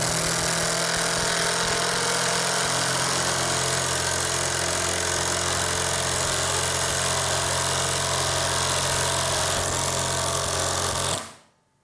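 Tekiro 20V CDID2071 cordless impact driver on speed 3 driving a screw into pre-drilled material, a loud steady high-pitched mechanical whine and rattle held continuously before cutting off abruptly.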